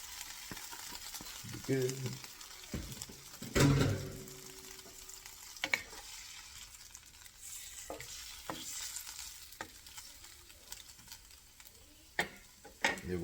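Marinated pork for adobo fries in a pan with a steady sizzling hiss, punctuated by sharp clacks of a utensil stirring and scraping, while a voice speaks briefly.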